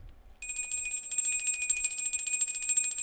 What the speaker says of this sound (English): we, as always, go to the lovely bell